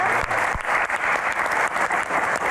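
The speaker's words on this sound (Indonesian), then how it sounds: "Tepuk tangan." Audience applause at an evening Q&A event in Indonesia, with students from Jakarta among the crowd; steady, dense clapping fills the room throughout, close and fairly loud, with no speech over it.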